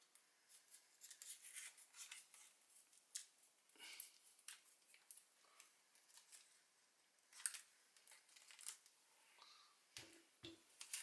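A blade cuts gently around masking tape wrapped on a VFC MK48 airsoft gun, giving faint, sparse snips and soft scraping scratches spread across a quiet background.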